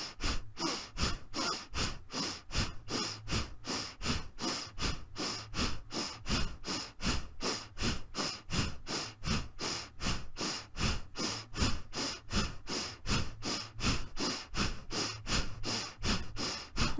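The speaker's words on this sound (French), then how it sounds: "Je continue le souffle, peut-être avec un peu plus de vitesse que ce que j'ai fait jusqu'à présent." Fast, rhythmic breathing exercise: a long run of quick, forceful breaths through the nose, evenly paced at about two per second, close and alone.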